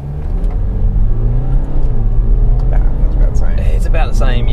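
A BMW F30 320d M Sport, a diesel sedan, accelerating from 0 to 100 km/h, its engine a steady loud drone heard from inside the car, with a voice speaking over it toward the end.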